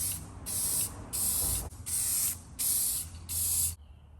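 Black paint is sprayed onto motorcycle gas tanks for a 1940s Harley 45 flathead flat-track racer, in six close, loud hissing bursts of aerosol spray with brief gaps between them.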